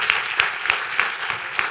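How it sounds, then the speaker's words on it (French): Theater audience at a forum-theatre performance applauding the actors, a dense steady wash of clapping with a few sharper peaks, fairly close and full throughout. "je voudrais qu'on applaudisse évidemment du coup les comédiens"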